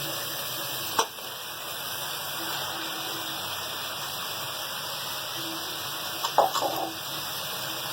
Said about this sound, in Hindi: अब हम साइडों में तेल आ रहा है, हम ये अब मसाले में ये भिंडी डाल देंगे